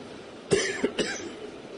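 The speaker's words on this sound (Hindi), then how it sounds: "खांसी मुझे हो रही है, आप क्यों परेशान हो रहे हैं?" A man giving a spiritual talk on an Indian scripture coughs twice, two close, sharp bursts in a quiet room.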